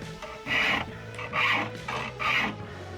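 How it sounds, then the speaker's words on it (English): A hand file rasps back and forth on the round tang of a steel leaf-spring sword, three rhythmic strokes, close and clear with brief gaps between, no talking. "Now filing to its finished dimension."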